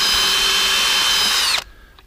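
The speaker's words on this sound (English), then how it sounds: "this stuff's pretty easy to drill through." A power drill bores through the wall of a Casita travel trailer, a steady loud whine that runs for about a second and a half before cutting off abruptly, leaving near silence.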